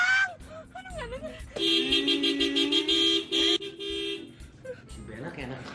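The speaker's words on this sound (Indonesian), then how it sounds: "Bas, ini nggak mungkin dia mainin klakson." A car horn blares in one long sustained honk, loud and close, with people talking before and after it.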